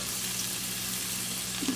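Half an onion in julienne strips fries in hot oil for a spicy shrimp dish, a steady soft hiss and sizzle throughout with no talking.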